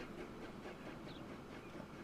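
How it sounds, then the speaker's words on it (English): Train from Transport Fever 2 rolling through a station without stopping on the early Stockton and Darlington Railway of 1825, a steady rumbling roll with faint clickety rail noise, continuous and fairly quiet. "Anyway, this train is not stopping here."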